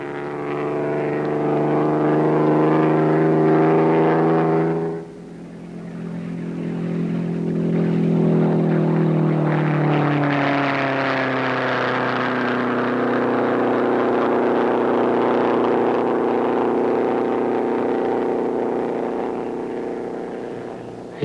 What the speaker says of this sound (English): Our power plant, similar to what we used on the drag strip, was an Allison aircraft engine